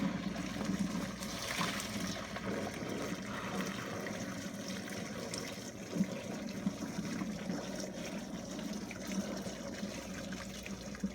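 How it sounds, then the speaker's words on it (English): Water trickles slowly and steadily into a cooking pot while spaghetti is being made, a faint, continuous pouring and gurgling sound at close range with no voices. "Just pour it in very slowly."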